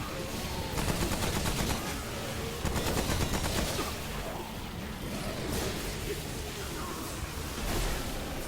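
Rapid gunfire rattles almost nonstop against the Scourge boss in Remnant: From The Ashes, a dense, loud barrage of shots layered with game noise throughout.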